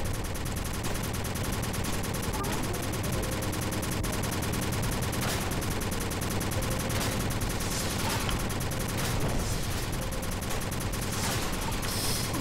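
Gunfire in the action game Kickass Commando: repeated shots and bursts layered over a dense, constant backdrop of game music and effects at steady loudness.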